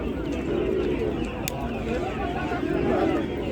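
Pigeons coo in low, repeated calls at a busy bird market in Ganja, with voices talking nearby and steady crowd background.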